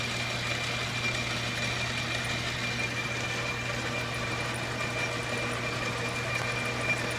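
A machine trues up an engine crankshaft, giving a steady, unbroken mechanical hum with a constant low drone and faint high whine that hold even throughout, with no voices.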